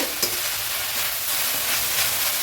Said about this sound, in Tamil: பாருங்கள், கீரை நல்லா வதங்கிடுச்சு